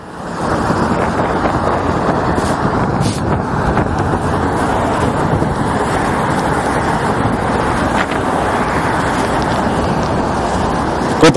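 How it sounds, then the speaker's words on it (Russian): Heavy road traffic roars along a wide city street in Moscow's Khoroshevo-Mnevniki district, a loud, continuous wash of passing cars, buses and trucks that stays steady throughout with no break. "Очень агрессивно здесь движение, очень шумно."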